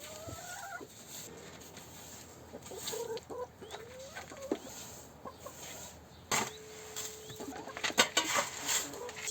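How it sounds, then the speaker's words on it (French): Hens clucking and calling inside a henhouse, several birds close by with irregular bursts of clucks and squawks, growing busier toward the end. "on va s'occuper de votre poulailler, les Ginettes"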